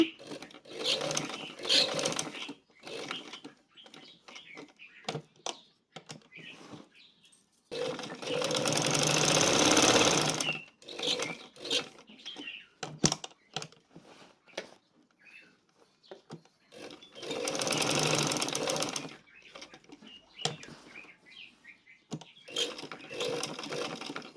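A sewing machine stitching fabric to form a buttonhole, running in two long bursts of rapid, rattling stitching. A voice talks quietly in the pauses between them.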